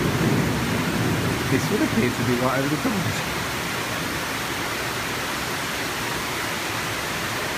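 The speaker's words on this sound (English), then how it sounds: "This is whiting out here with rain." Heavy tropical storm rain in Orlando pours as a steady, loud wash that fills the whole clip, with a faint low rumble of thunder; someone speaks over it during the first few seconds.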